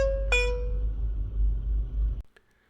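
A Thinkware ARC dashcam gives a short two-note alert chime, the second tone higher, over the low rumble of a car interior before the sound cuts off.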